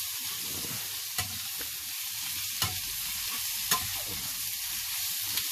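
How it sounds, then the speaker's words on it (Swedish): Food sizzles steadily in a frying pan while a utensil stirs and scrapes it in occasional sharp knocks. The cooking is close, with no talking. "det där jag ska steka lite till här då"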